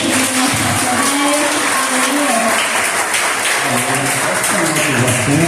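Church congregation applauding during a pastor's anniversary celebration service, a dense continuous wash of clapping with voices and what sounds like music or singing woven underneath throughout.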